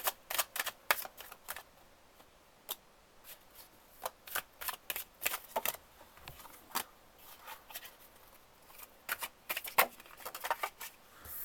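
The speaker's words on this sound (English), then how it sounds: "look, it's so nice to shuffle." Tarot cards are shuffled in repeated quick riffling bursts, crisp and close, with short pauses between them.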